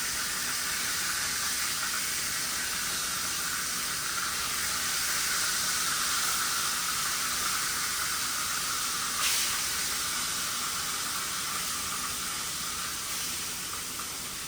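Potatoes fry in grease for home fries, giving a steady, fairly loud broadband hiss and sizzle that runs unbroken throughout with no talking.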